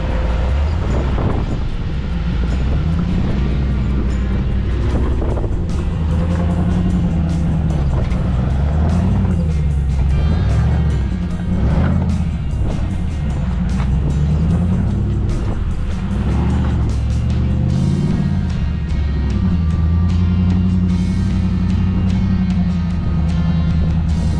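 A Jeep Gladiator fitted with an AT Habitat camper climbs in second gear, its engine a loud, steady low drone that rises and falls with throttle, alongside continuous road and wind rumble throughout.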